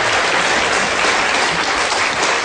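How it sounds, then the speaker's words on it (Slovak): An audience claps in a dense, steady burst of applause that holds at an even volume throughout, with no talking over it. "No tak za to si zaslúži potlesk."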